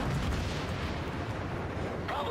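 Heavy battleship guns of the Kawachi in World of Warships boom and rumble, a dense low roar of cannon fire with a sharper burst near the end.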